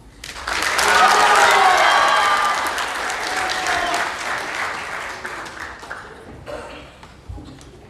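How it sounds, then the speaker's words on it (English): A room full of people gives a sustained round of applause at a Pasifika Fusion rehearsal in honour of a college student, swelling quickly, holding steady, then thinning out, with a few voices and whoops over the clapping. "Another round of applause, ladies and gentlemen, for Mr. Samuela Takarumaki from Waipu College"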